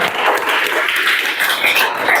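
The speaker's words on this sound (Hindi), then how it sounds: "ताली बजा दो एक रोबा" Classroom applause during a Chhattisgarh police recruitment coaching lesson, dense continuous clapping from a group held steady throughout, loud and close with no pauses.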